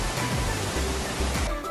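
Sarang Walet waterfall near Mount Rinjani pours in a steady, dense roar of rushing water, loud and close, with no voices over it.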